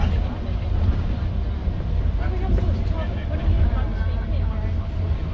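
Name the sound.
Dennis Trident Euro 2 bus engine running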